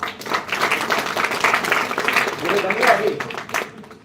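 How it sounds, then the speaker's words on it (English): Short burst of audience applause at a live counselling session, uneven clapping that swells and fades over a few seconds with some voices underneath. "Give a big round of applause for Sneha."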